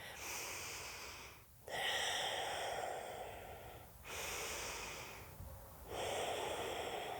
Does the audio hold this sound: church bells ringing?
no